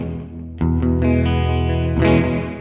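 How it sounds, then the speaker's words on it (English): Guitar through an Alexander Space Force pedal in Frozen mode, echoverb with room reverb and delay in parallel, a sustained chord swelling into a dense shimmering wash with a fresh strum midway, loud and upfront. "we have frozen, which is an Echoverb, room, reverb, and delay in parallel"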